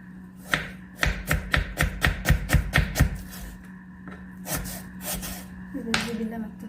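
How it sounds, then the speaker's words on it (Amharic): A knife slices through two tomatoes and two onions on a cutting board, a quick run of about a dozen close, crisp chops followed by a few slower scattered cuts. "ይሄንን በስላይስ እከትፋለሁ ማለት ነው።"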